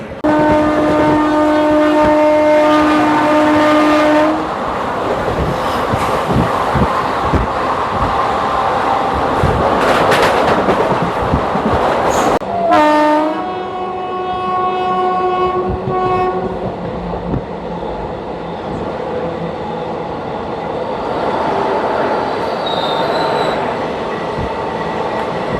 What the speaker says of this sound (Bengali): চলো ট্রেন চলুক, মেচেদা পৌঁছক